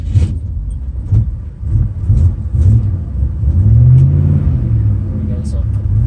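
A 1963 Ford Falcon engine running after a cold start, a low rumbling idle that rises into a couple of revs, heard close over a person talking.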